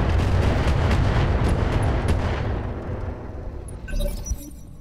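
Mech weapons firing in the Roguetech BattleTech mod: a rapid stream of heavy, booming shots and blasts rolls on for about three seconds, then tails off into scattered crackling impacts and debris.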